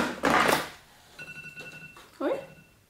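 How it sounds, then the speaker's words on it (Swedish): A short electronic alarm tone rings out in a dollar store, a steady beeping chime lasting about a second amid shop background noise, with someone talking before and after it. "Oj, ringer ett larm."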